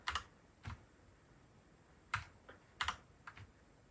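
Keys pressed on a Royal Kludge RK98 mechanical keyboard: a handful of sharp, close clacks spaced irregularly, some in quick pairs, with quiet gaps between and no voice.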